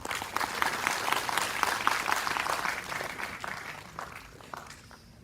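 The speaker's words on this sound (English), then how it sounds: "Your clap should not stop." A conference audience at a telemedicine event at Tanda Medical College claps in a dense, steady burst of applause that thins and fades away over the last second.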